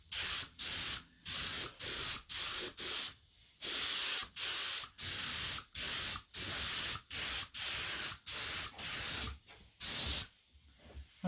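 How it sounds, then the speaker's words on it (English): A spray gun lays down silver clear coat mixed one to one to one at 25 psi, firing about a dozen short hissing bursts with brief silent gaps between them, close and steady. "So I'm going to try the silver class coat mixed 1 to 1 to 1 in this gun at 25 psi."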